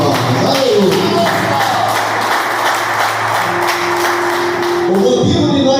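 A church congregation claps together during worship, a dense, continuous wash of many hands that stays loud for the full stretch, with voices and music mixed in beneath it.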